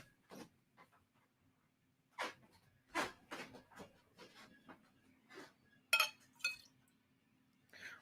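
Glassware clinks and taps in scattered bursts as a drinking glass is picked out from others, quiet close knocks and rattles with pauses between, no talking.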